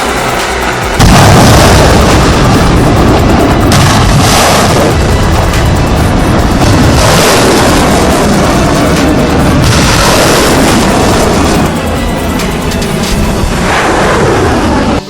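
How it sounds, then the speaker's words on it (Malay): Heavy booms and rumbling blasts from live-fire military drills in the waters and airspace around Taiwan, loud and dense, with repeated thuds rolling over one another for the whole stretch. "latihan berkenaan akan meliputi tembakan peluru hidup di air serta ruang udara di sekeliling Taiwan"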